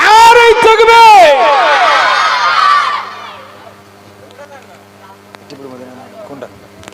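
A crowd at a gojol concert shouts a takbir response in loud, unison calls that fade after a few seconds, leaving quiet hall ambience and a voice speaking over a sound system.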